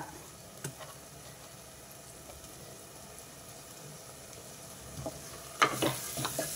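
Quiet, steady frying sizzle of chana dal in tempering oil with a few soft stirring scrapes, growing brighter and louder near the end as something is added to the hot oil.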